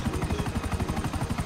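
A combat helicopter in the video game GTA V gives a brief, steady rotor thump with a rapid, even pulsing beat, close and moderately loud, with no voices over it.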